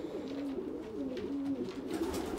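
Pigeons in a breeding loft coo steadily in low, rolling phrases that overlap one after another, close and continuous, with no one talking.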